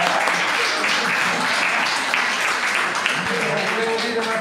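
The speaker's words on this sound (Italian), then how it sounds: "dobbiamo ringraziarli e fare un bel applauso" An audience at an art gallery jazz event breaks into steady applause for musicians, a continuous wash of clapping at moderate volume with faint voices mixed in.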